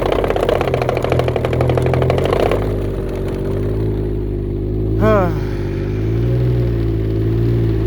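A Can-Am Ryker three-wheeler that will not accelerate, its engine running loud and rough with a steady droning idle, a faster rattling layer early on, then a brief rising whine midway.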